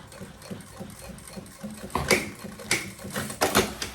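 A domestic sewing machine stitches a banana bag in short irregular bursts, with quiet mechanical whirring, then sharper clattering pulses that grow louder toward the end.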